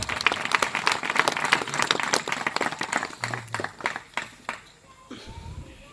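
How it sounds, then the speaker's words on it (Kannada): A church congregation claps loudly in a dense, fast burst of applause that thins into scattered claps and fades out by the end. "ಚಪ್ಪಾಳೆ ತಡೆದು ಜೋರಾಗಿ ಕೈ ಇತ್ತ"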